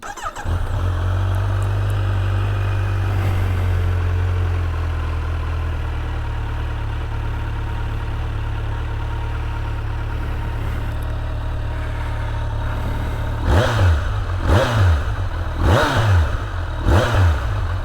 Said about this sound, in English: Let me actually get this thing started up for you all so you can hear what it sounds like.